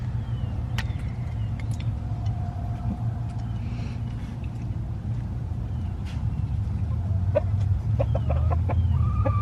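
A broody hen sits on a clutch of eggs in a backyard coop, giving low, continuous clucking and murmuring throughout, with faint rooster-like calls and a steady background hum.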